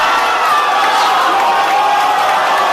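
A crowd at a FlipTop rap battle cheers loudly, a dense roar of shouts and whoops that holds steady throughout.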